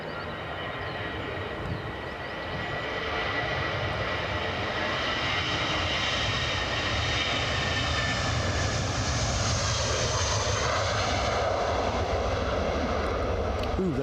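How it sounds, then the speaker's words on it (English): A British Airways airliner takes off at Edinburgh Airport on a windy day, engines swelling from a moderate rumble to a loud, sustained roar that holds steady through the climb-out. "British Airways lined up for Heathrow"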